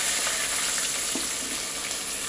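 Green chillies and onions frying in a pan, an even, continuous sizzle close up with a few soft stirring touches.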